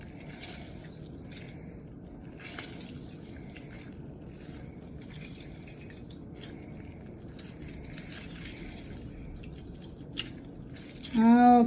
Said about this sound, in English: I'm gonna juice the orange into our wet ingredients here